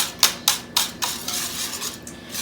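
A whisk beats a quiche mixture in a bowl with several quick, rhythmic scraping strokes that clink against the sides, close and fairly soft, then settles into lighter, quieter stirring.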